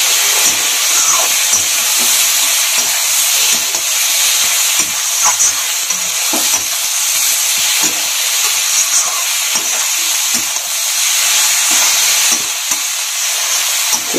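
Eggplant with egg and Kashmiri chilli powder being stir-fried in a pan, a steady loud sizzle with hiss and steam plus frequent clinks and scrapes of a spatula stirring throughout, no talking.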